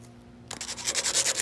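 Sandpaper scrubs over oxidized kiln element connections, beginning after a brief silence and continuing as quick, close, rhythmic rasping strokes.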